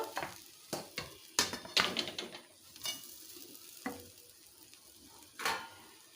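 Vegetables are stirred into spiced dalia in a pan: irregular spoon scrapes and clacks against the pan over a faint low sizzle, close and fairly quiet.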